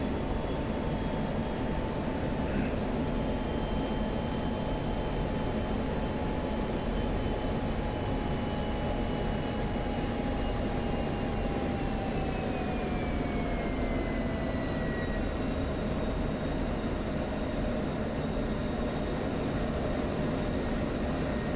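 F-16 jet engine throttling back in the DCS flight simulator: a constant loud roar from inside the cockpit, with a whining tone that slowly sinks in pitch as power comes off.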